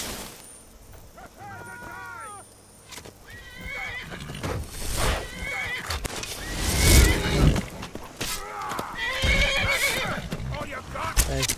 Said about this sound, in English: leave that horse alone.